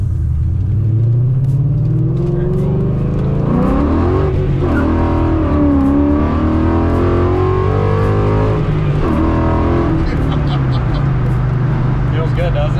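A Ford Foxbody convertible with a Gen 3 Coyote engine accelerates from inside the cabin, a loud steady engine rumble rising and falling in pitch through gear changes, with people talking over it.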